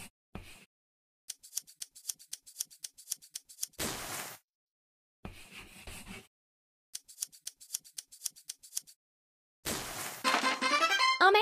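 Snipping of fabric scissors along a cut line in a sewing dress-up game, quick rhythmic clicks in bursts separated by silences, ending in a denser swoosh.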